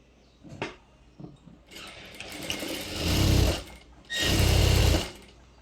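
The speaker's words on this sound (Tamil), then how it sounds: "இதே மாதிரி நான் டபுள் ஸ்டிச் போட்டு இந்த சைடும் கம்ப்ளீட் பண்ணிக்கிறேன்." A sewing machine double-stitches the side seam of palazzo pants in two loud close bursts of rapid whirring, after some quieter handling and fabric rustle.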